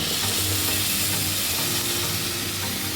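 Prawns and onion sizzle in a hot pan with a steady, even crackle and a few stirring scrapes, close by and continuous with no talk.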